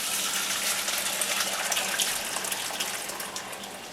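Water running from a tap into a pot of beans being washed, a steady broadband gush that stays loud and close for the whole stretch and eases only slightly near the end, with no talk over it.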